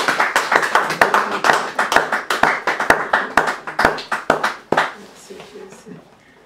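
A church congregation clapping in a steady rhythmic beat, loud and close, with voices sounding throughout before the claps fade out near the end.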